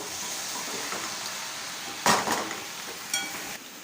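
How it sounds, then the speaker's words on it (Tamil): Cashew nuts fry in melted ghee in a pan with a soft, steady sizzle close by, punctuated by a couple of sharp metallic clinks from a utensil against the pan. "நெய் உருகியாச்சு இப்போ இதில் நம்ம முந்திரி பருப்பு சேர்த்துக்கலாம் முந்திரியை நெய்யிலே வந்து நம்ம வறுத்து எடுத்துக்கலாம்"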